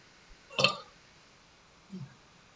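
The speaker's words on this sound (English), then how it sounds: "I learned how to burp on command when I was a kid, and I think that was my first burp ever on stream." A person burps on command with one short, sharp burp, followed moments later by a fainter, lower second sound, both close up in a quiet room.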